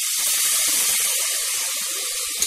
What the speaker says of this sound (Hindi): थोड़ा सा पानी डालिए